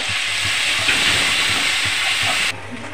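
Spice paste with a little water for a Bengali egg and potato curry sizzling in a pan while being stirred, a loud continuous hiss with periodic scraping strokes, dropping suddenly at the end.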